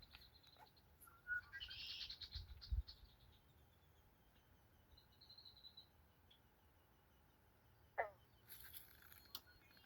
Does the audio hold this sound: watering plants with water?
no